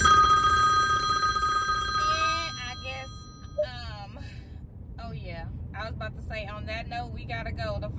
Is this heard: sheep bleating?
no